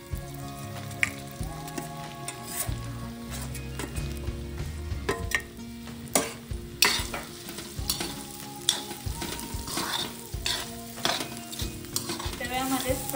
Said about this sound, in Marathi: आता तेल टाकले 2 चमचे, तर आपण सोयाबीनला मसाला लावला होता, 2 मिनिटं झाले. आता ते फ्राय करून घेऊ.